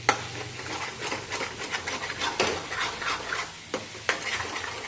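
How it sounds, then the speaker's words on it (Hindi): Masala spices for chole being stirred and fried in a pan over a slow flame: a continuous soft sizzle with scraping strokes and a couple of sharper spoon knocks near the end, no voices. "इसको स्लो फ्लेम पे और सेकेंगे मसाले को।"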